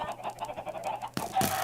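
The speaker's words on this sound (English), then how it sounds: "That's a lot of chickens." Chickens in the Minecraft video game cluck in a quick, steady series of short, close calls, followed by a brief burst of other game sound.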